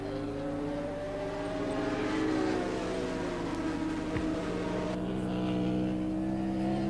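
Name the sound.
Honda three-cylinder water-cooled two-stroke racing motorcycle engine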